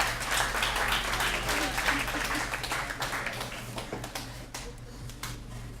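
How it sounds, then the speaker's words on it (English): Applause from a live audience greeting the Meter Maids at a poetry event, a dense, steady burst of clapping that fills the room and tapers slightly toward the end, with faint hum underneath. "Let's have a big round of applause for the Meter Maids"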